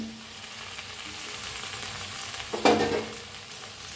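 Fried okra stirred into roasted masala in a hot, oily pan, with a low, steady sizzle and a brief louder scrape and clatter of stirring partway through.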